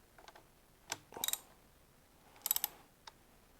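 Bolt through the front of a Barkbuster handguard being snugged into its bracket on a Harley-Davidson Pan America, giving a few faint, quick metallic clicks and ratchet-like ticks in two short bursts with quiet gaps between.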